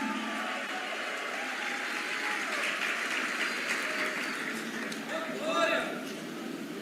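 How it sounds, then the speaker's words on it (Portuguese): A church congregation claps in sustained applause in praise of Jesus, a dense, even patter filling the room with a few cheers rising near the end. "Dê um aplauso, louve a Jesus."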